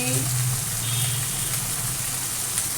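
Potatoes, onions, tomatoes and aubergine frying in a pan, a steady close sizzle with a low hum beneath and faint voice traces.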